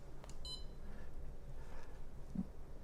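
A short, high electronic beep from an iRestore laser red light therapy device rings out once near the start over a low steady background hum, fairly faint and brief.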